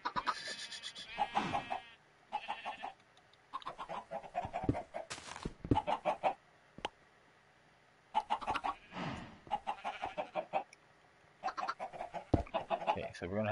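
Chickens cluck in the video game Minecraft in repeated short, quiet clucks that come in clusters over the stretch, against a soft game background.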